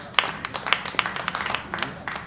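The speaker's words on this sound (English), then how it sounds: "Get a round of applause for kids." Audience applause at a stand-up comedy show, a short burst of scattered clapping from a small crowd, fairly close and steady, with faint voices mixed in.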